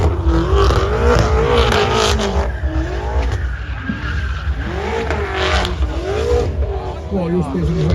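A car at a BMW meet revs loudly, with rising and falling engine whine and some tire squeal over a continuous roar; voices talk over it.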